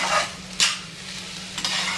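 A spoon stirs a spice mixture with green chillies in a pan for matar bhat, green pea rice, giving a few brisk scraping strokes over a faint low hum, close and without talk.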